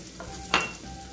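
Pork chops fry in a pan with yellow and red bell pepper. A steady soft sizzle runs throughout, broken by one sharp utensil clatter midway.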